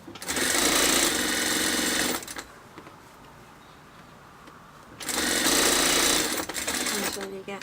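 A sewing machine stitches a waistband in two loud, steady bursts of rapid mechanical whirring, separated by a quieter pause of a few seconds.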